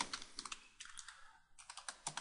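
A name being entered on a computer keyboard, soft close key clicks in short irregular bursts separated by brief pauses, with no voices.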